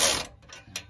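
Ratchet being worked on a muffler fitting of a 2009 Ford Escape during muffler replacement: a loud burst of clicking at the start, then a few fainter ratchet strokes, close up with no talk.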